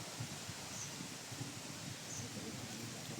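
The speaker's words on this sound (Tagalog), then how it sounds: "Grabe ng hangin mga idol." Strong wind rushes and rustles through leaves outdoors, a steady broadband hiss with slight gusting and buffeting throughout.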